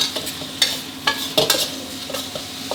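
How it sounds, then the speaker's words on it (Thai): Sauce stir-fried in hot oil in a pan over high heat for a Thai holy basil omelet dish, heard as quick, irregular spatula scrapes and clacks over a light sizzle, close and with no talking. "ผัดซอสตัวนี้กับ น้ำมันแล้วก็ไฟร้อนๆสักครู่ครับ"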